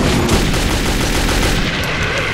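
Dense, loud automatic gunfire from the first-person shooter Metro 2033, a continuous rapid burst filling the whole stretch without pause, close and overpowering.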